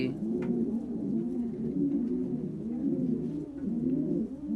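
Breeding pigeons in a loft coo steadily and close by, a continuous rolling chorus of low throaty calls with no talk.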